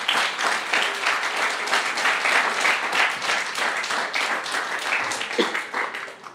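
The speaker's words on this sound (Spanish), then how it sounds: "Dale un aplauso al Rey." A church congregation applauds during a sermon, a dense, steady wash of many hands clapping at close range that holds for several seconds with no talking over it.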